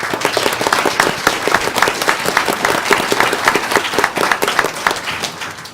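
Steady applause from an audience at a school board meeting fills the room, many hands clapping continuously for several seconds before starting to taper off.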